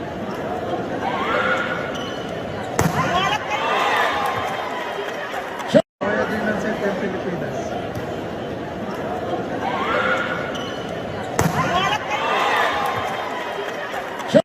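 Loud volleyball spike hits in an indoor arena, sharp single slaps that stand out over a constant crowd murmur and chatter, heard twice with a brief dropout between.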